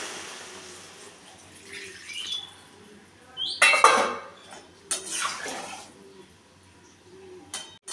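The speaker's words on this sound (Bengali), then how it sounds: "বড়িটা দিয়ে তো আমি জল দিয়ে দিচ্ছি পরিমাণ মতো" Water poured into a cooking pot holding lentil dumplings, in short splashy bursts with light clinks of the pot, fairly close, with no talking.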